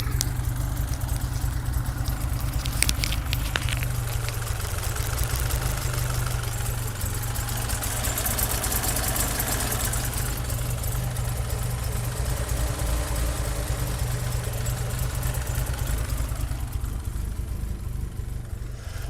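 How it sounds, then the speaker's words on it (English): A 1980 Fiat 2000cc car engine idles steadily up close, a smooth, even rumble with a light ticking texture and no voices, holding the same level throughout. "So it's got a nice healthy idle."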